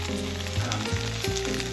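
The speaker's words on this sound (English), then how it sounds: "I'm cooking tofu and toast" Tofu and toast frying in a pan on a cold hut trip, a close steady sizzle with a few soft bumps and clinks as the food is moved, no talk.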